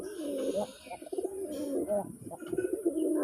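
A male Gola pigeon coos nearby in repeated low, rolling calls, with brief rustling between phrases.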